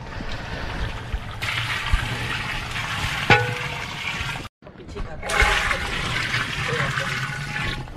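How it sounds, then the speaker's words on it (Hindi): Water is poured from a container into a large pot of white chicken pulao holding about 10.5 kg of rice and 5 kg of chicken. A steady, gushing splash breaks off for a moment, then resumes. "ये हुण असी पानी ऐड करांगे।"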